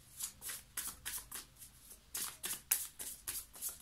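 Tarot cards are shuffled by hand in a quick, even series of riffling bursts, close and soft, about a dozen strokes in a steady rhythm.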